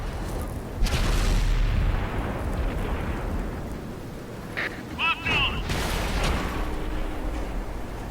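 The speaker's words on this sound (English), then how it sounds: "So we pull off this shot on the move." An IS-7 tank fires its cannon on the move in World of Tanks, a heavy boom with a rumbling tail, followed by a second blast and game effects as someone talks over it.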